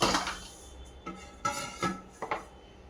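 Rice flour, yogurt, sesame, ginger-chili-garlic paste, jaggery and spices are mixed in a bowl for bajra methi vada, with a handful of light metallic clinks and scrapes of a spoon against the bowl, close and fairly quiet.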